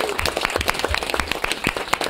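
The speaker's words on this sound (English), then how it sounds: "Clap it up, y'all. Clap it up." A live concert crowd claps, many distinct hand claps overlapping in a brisk, uneven patter that stays close and fairly loud throughout the short stretch.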